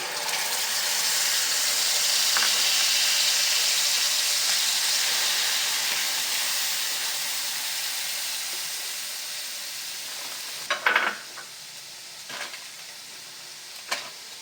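Water-mixed paste of ground cumin, chilli and coriander hitting a hot pan for a chital fish curry, a loud steady hiss and sizzle that slowly fades, followed by a few sharp stirring clatters.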